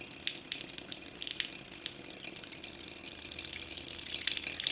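Saline water from a neti pot drains out of a nose and splashes into a water basin, a close, continuous patter of drips and trickling.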